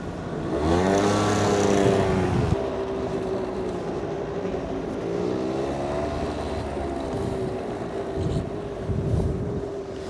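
Busy road traffic in the Philippines on an overcast day: a vehicle passes close by with a strong, steady engine tone and a rising-falling hum in the first seconds, then a continuous rumble of engines carries on with horn-like tones.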